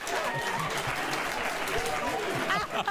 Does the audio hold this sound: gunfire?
no